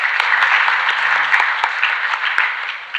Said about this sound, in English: I would request you to give a huge round of applause for Mazullah and Imangul